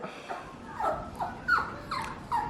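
A lost dog whimpers and yips in a garden, a string of five or six short, high, rising cries spaced about half a second apart, close by and fairly quiet.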